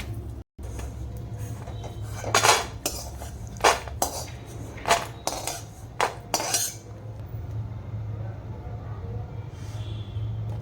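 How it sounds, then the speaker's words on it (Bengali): Cashews and almonds being dry-fried together in a pan while making homemade baby cereal, with a spoon scraping and clattering against the pan in several sharp bursts over a low steady hum. "এবারে কাজু আর আলমন্ড বাদামটা একসঙ্গে ভেজে নিচ্ছি হালকা করে"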